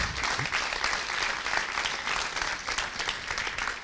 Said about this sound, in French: Bravo, je crois qu'on peut l'applaudir.